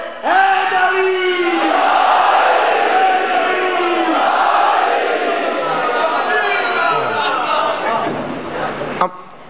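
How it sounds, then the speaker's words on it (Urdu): A large crowd raises a loud, sustained shout of the slogan Nara-e-Haidari, voices swelling together with rising cries that fill the space for several seconds before cutting off. "دونوں ہاتھ بلند کر کے نعرے حیدری"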